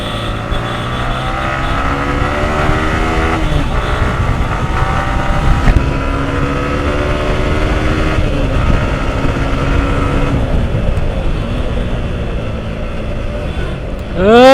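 A Yamaha R15 V3 Indonesia motorcycle is ridden along a wet road, its engine droning loud and close with pitch rising and falling as it revs through gears, under heavy wind rush and a final sharp rev.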